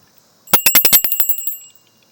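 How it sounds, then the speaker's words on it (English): A small bell struck in a quick flurry of about eight bright, ringing strikes that fade over roughly a second, heard alone against silence. "we ring the bell"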